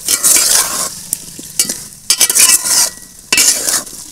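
Beans with a little salt sauté in a pan, loud close sizzling broken by scraping stirs of a utensil, coming in bursts with short quieter gaps between.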